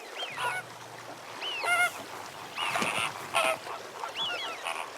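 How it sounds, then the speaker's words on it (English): Greater flamingos calling at Chilka wetland, giving short bursts of nasal, goose-like honks at irregular intervals, moderately close against a quiet background. "greater flamingos are among the earliest visitors every winter"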